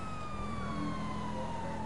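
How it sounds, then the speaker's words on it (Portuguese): A steady wailing video game police car siren slides slowly downward over a low engine rumble, moderately loud and continuous with no talking. "Rapaz, vou ligar até a sirene aqui."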